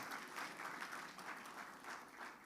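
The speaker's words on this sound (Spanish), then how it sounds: "un fuerte aplauso para ellos" Faint, steady applause from a church congregation honoring a married couple, a soft wash of clapping with gentle swells and no voices.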